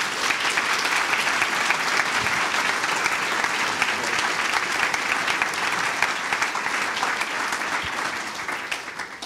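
Audience in a hall applauding to welcome speaker Dr. Paul David Tripp, sustained dense clapping from many hands, loud and even throughout, tapering slightly at the close.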